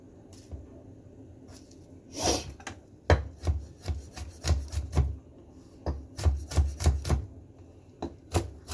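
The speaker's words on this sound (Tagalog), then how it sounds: "Hiwain ko lang ng konti para maano lang" A knife cutting food on a board for adobo, giving a run of irregular, close chopping taps and scrapes, with a rubbing sound early on.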